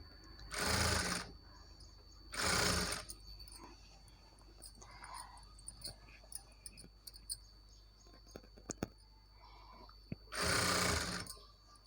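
A sewing machine stitches a readymade blouse in three loud, separate bursts of rapid whirring, each lasting about a second, with quiet clicks and handling noises between them.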